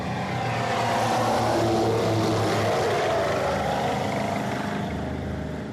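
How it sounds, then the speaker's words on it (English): Twin Rolls-Royce Eagle engines of a 1919 Vimy biplane roar steadily at full throttle during takeoff, a loud continuous propeller drone with low harmonic rumble, heavily laden with fuel, swelling slightly then holding. "Alcock pushed the throttle on the twin Rolls-Royce Eagle engines and powered the Vimy into the sky"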